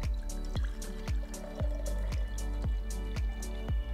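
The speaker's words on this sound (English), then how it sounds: "we're just going to be putting it in our trusty mixer" Oaza Black coffee poured from a full can into a mixer, gulping and splashing in a steady rhythm of about two glugs a second, close by.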